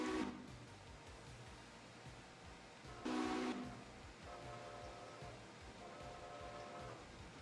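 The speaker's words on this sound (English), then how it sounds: "I see the passenger train." A passenger train rolls by in a railroad video game with a steady rumble, and two short whistle blasts sound, one at the start and one partway through, fairly loud over the running noise.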